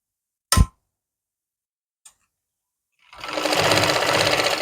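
A sewing machine runs a straight seam attaching a pocket to palazzo pants: a sharp knock, a faint tick, then a steady close whirring run of stitching.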